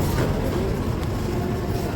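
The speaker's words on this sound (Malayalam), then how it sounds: "ഇത് നമ്മൾ വന്ന മെട്രോ ട്രെയിൻ." A Dubai Metro train at Union station gives a steady, close rumbling roar with faint rail clatter, continuous throughout with no talking.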